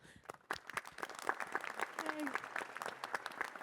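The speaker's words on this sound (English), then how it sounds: "let's give a round of applause for Volker Wulf" An awards ceremony audience applauds Volker Wulf, a crisp patter of many hands clapping at moderate volume, starting abruptly and continuing steadily, with a voice briefly audible over it.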